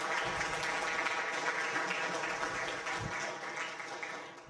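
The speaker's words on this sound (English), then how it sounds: "OVF members, please join me in giving our guest a round of applause." A luncheon audience at a business gathering applauds guests in a dense, sustained round of clapping that fades slightly toward the end, with no talking over it.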